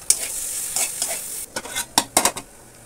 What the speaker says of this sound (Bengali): জিরে গুঁড়ো দিয়ে আর একটু আদা বাটা দেবো, দিয়ে ভালো করে একটু নাড়াচাড়া করে নেবো।